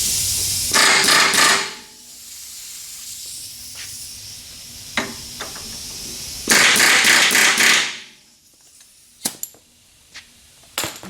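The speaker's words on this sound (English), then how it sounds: "I'm going to actually knock those bolts back in, the knurls, with the air hammer" An air hammer knocks knurled bolts into a Malibu's aftermarket control arm in a garage, firing in two loud rattling bursts separated by quiet gaps and a few sharp metallic clicks.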